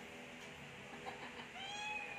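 Cats meow softly in the distance over a steady low background hum, with one clearer rising meow toward the end.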